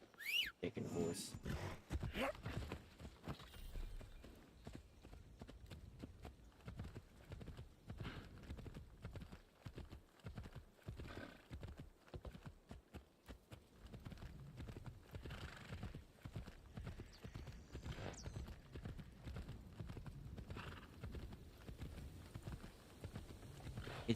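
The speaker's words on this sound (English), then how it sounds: "Taking a horse." Horse hooves clip-clop steadily at a gallop in the Assassin's Creed Shadows video game, with an occasional whinny and whistle, loud and continuous throughout alongside game ambience.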